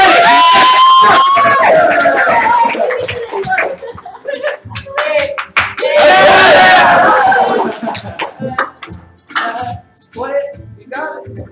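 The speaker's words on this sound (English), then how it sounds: "Cheer on, everyone!" A live game show crowd claps, cheers and whoops in two loud bursts, with scattered clapping and chatter between them, while a host talks over the noise.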